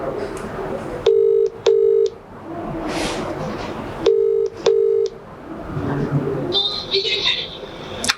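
Phone-line tones sound in pairs of steady beeps, two short tones twice over, with a voice speaking between them and higher chirping tones near the end.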